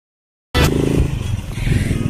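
A motorcycle taxi rides along a rural road near Tambogrande, Piura, its engine starting abruptly after a brief silence and running with rattling and a rough, close drone over a couple of seconds.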